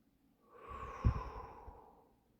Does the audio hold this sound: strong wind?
no